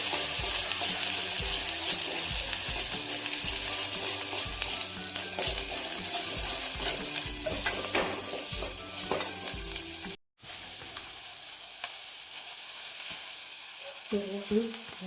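Masala sautéing in a pan for a modak amti, with a loud, close sizzle and constant stirring scrapes for about ten seconds, then an abrupt cut to a quieter hiss with a few clinks near the end.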